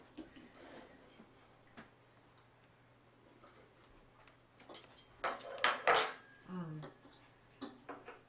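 A knife cuts through a portobello mushroom on a plate, giving soft scattered clicks and a cluster of sharper scraping taps against the dish, close and fairly quiet, with people talking faintly in the background.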